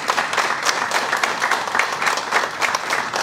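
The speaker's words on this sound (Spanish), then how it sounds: "Quiero que usted reciba este aplauso de este equipo." Warm applause from a team gathered at a gastronomic route meeting, dense close clapping with a steady, slightly rippling rhythm and no talk over it.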